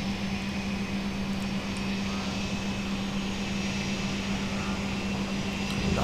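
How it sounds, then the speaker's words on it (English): Jet engines at full throttle on a military aircraft in the Lock On flight simulator, a steady, dense roar with a sustained low hum, constant in level throughout with no voices. "Advancing throttles to full."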